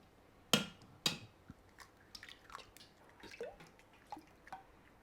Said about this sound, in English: To my large mixing bowl, I'm going to be cracking in a dozen eggs.